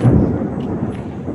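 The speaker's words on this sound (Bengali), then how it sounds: "এত জোরে মেঘ ডাকছে" Thunder rumbles during heavy rain at night, a loud, deep, sustained roll that fills the short moment, with no talk.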